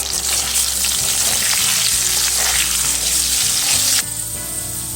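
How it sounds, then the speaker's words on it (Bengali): Potatoes seasoned with salt and turmeric fry in hot oil, giving a loud, dense, close sizzle that holds steady and then drops noticeably in intensity near the end. "একটু লবণ ও হলুদ দিয়ে আলুটা আমি ভেজে নেব।"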